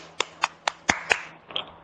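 Audience applause for DK Singh at a Gorakhpur gathering, heard as about seven sparse, separate claps spread across a couple of seconds, thin rather than a full ovation.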